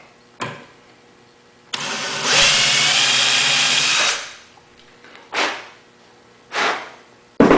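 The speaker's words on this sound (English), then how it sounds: "I'm going to drill a slotted hole in the front." A power drill whirs in several bursts while drilling a slotted hole for drawer slides: short revs, then a long sustained run drilling into material, followed by more brief spins, loud and close.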